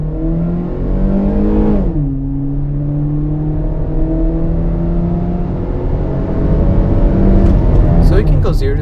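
A 2006 Chevrolet Cobalt LS coupe accelerates hard from inside the cabin, engine droning loudly and rising in pitch, dropping at a gear change, then climbing again steadily.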